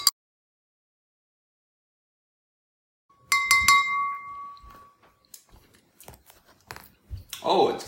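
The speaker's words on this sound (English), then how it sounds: "Let's see how this stirs up." A spoon stirring Cellucor C4 Ultra Frost pre-workout powder in about 250 ml of water, giving bright clinks against the glass followed by scattered faint taps, after a long near-silent stretch.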